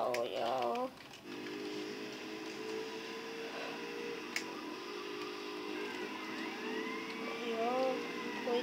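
A wailing police siren rises and falls in GTA Vice City, its wavering tone appearing at the start and again near the end over a steady background hum.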